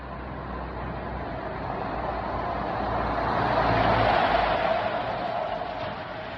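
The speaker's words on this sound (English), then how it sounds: "I'll let the lorry come through." Lorry driving along a main road past a house: a steady broadband rumble swells and fades over several seconds at moderate distance, with no talk.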